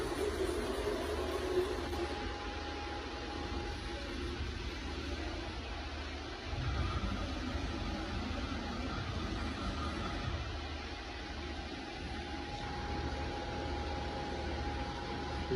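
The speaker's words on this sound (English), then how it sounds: "we're gonna run this MILLTRONICS VM2515 for you. Just kind of hand wheel jog." A 2022 Milltronics VM2515 CNC mill runs under hand-wheel jog, a steady broadband machine drone with a faint high whine, holding an even level with no voices throughout.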